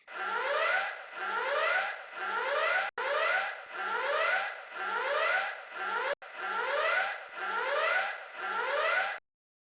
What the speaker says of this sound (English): Then there's also a siren.